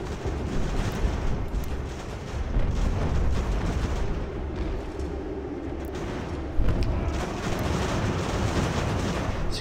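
Distant artillery fire in Ultimate General: American Revolution, a dense continuous low rumble of booming cannon blasts with a sharper thud near the end, no talk over it.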